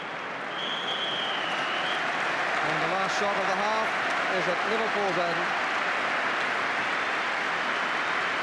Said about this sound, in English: But the crowd applauding an excellent 45 minutes